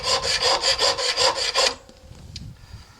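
A hand file rasps back and forth across a forged steel knife blade in even, rhythmic strokes, about eight passes close up, then stops, leaving quiet room noise.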